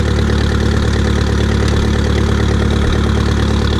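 A Massey Ferguson 35 Turf Special tractor engine idles up close, a loud, steady, even diesel rumble with a constant low throb throughout and no voices.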